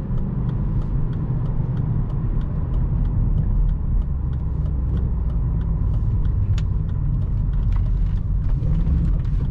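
A car with a freshly tuned engine map pushed hard into a corner, its engine a loud, steady rumble that holds without a break for the whole stretch, with no voices.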